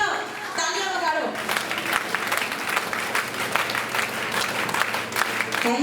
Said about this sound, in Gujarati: ઊભી થાઓ, તાળીઓ વગાડો